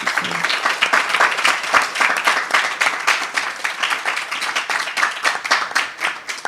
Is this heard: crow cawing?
no